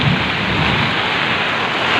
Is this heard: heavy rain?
yes